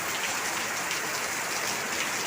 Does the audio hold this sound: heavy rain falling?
yes